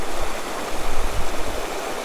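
Turbulent stream water rushes loudly near a glacier on the Arctic tundra, a dense close-up roar of churning flow with low gurgling pulses and no voices.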